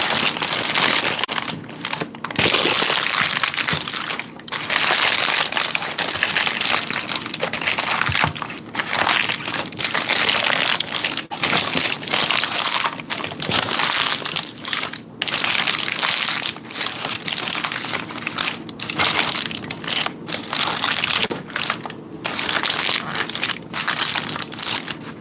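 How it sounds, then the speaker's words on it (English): Parchment paper crumpled and crinkled continuously at close range, dense crackling bursts with brief pauses, loud and dry with no talk over it. "It's parchment paper."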